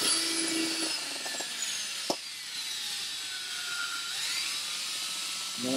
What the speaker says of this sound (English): I'm just going to drive this with a drill.